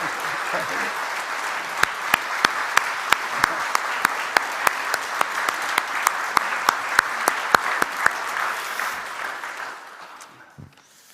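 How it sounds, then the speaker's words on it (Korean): A church congregation applauding during Sunday worship, a steady bed of many hands clapping with a few sharp, prominent claps standing out near the front, gradually fading away toward the end. "박수 한번 할까요?"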